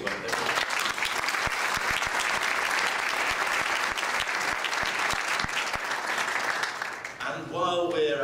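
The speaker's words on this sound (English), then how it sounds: "giving them a round of applause for the work they've done" A conference audience at the 2011 GLOBE annual meeting gives a sustained round of applause, with a few sharp nearby claps standing out from the crowd, before a voice begins speaking at the end.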